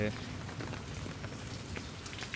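Steady rain patters on a surface, a continuous soft hiss with scattered drips, moderately faint.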